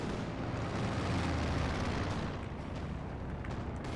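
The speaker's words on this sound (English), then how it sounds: "Artillery was called in on the B-4" An artillery strike in Company of Heroes 2, a dense, continuous rumble of blasts and booming impacts, loud and sustained, with no single clear shot standing out.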